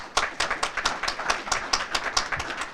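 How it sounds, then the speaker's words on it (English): A graduation ceremony audience claps in a sparse, uneven rhythm, with individual hand claps audible close by and fading rather than swelling into full applause. "Let's clap for that."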